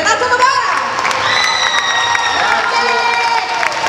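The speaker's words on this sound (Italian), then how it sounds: "Facciamo un grande applauso a Renato Novara!" A loud festival crowd applauds and cheers for Renato Novara at Como Fun 2022, with clapping, shouts and whoops mixing steadily throughout.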